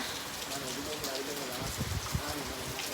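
Rain falling outdoors near the sea in Amnat Charoen, a dense even hiss with scattered drop patter and faint low knocks, fairly quiet throughout.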